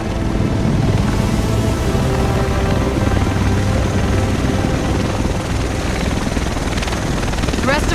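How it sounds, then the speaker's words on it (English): A helicopter arriving in the video game Tom Clancy's The Division over Manhattan, a steady loud rotor roar with wind-like rush sustained throughout. "The rest of us should be in this chopper."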